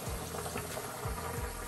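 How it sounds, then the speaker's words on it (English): Hot water and cooked pasta pour into a colander in a kitchen sink, a soft continuous splashing gush with a few low gurgles, faint and steady throughout. "I'm going to pour it into a colander strainer."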